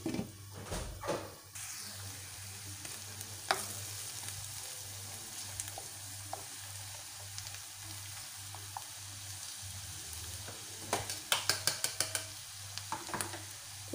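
Sardine kofta tagine frying in a pan gives a steady, close sizzle throughout, broken by occasional clinks and scrapes of utensils against the pan and a brief cluster of sharper taps near the end.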